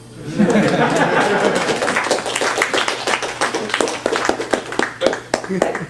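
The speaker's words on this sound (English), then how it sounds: "You can clap now." Audience clapping after a talk, starting as a full dense burst of applause that thins into scattered individual claps, with some voices and light laughter mixed in.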